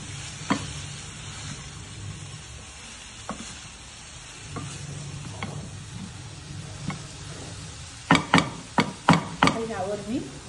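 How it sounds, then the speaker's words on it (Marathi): Fenugreek leaf vegetable simmering on low heat, a soft steady sizzle with faint stirring, then a quick run of sharp clinks and taps from a spoon against the pan near the end. "मंद आचेवर थोडा वेळ शिजवून घेऊया"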